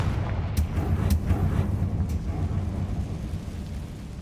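Confringo fire spell explosions in Hogwarts Legacy, heavy booming blasts early on that fade into a long rumbling roar and settle into low background noise.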